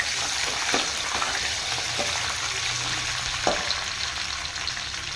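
Curry leaves and peanuts frying in oil for variety rice, a loud, dense crackling sizzle that runs throughout, with a few sharp pops and stirring scrapes standing out near the pan.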